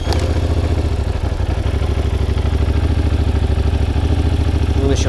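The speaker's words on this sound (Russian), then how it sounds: "Окей, запускаю мотор." A cold Yamaha TDM 900 motorcycle with a battery that won't charge runs at idle. Its engine makes a loud, close, steady rhythmic chugging throughout, with a light clatter and no voices.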